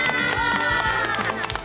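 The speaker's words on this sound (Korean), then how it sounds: "자, 우리 박수 한번 쳐주자." Brief clapping from a small group on a Korean television health show, mixed with background music and some voices.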